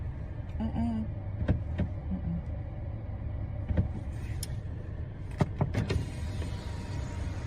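Interior of a parked car outside a restaurant, with a steady low engine idle and cabin hum, several sharp clicks and a power window motor whirring, and a brief voice in the background.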